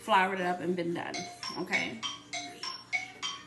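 A phone's electronic ringtone chimes in a repeating melodic pattern while a person talks over it nearby.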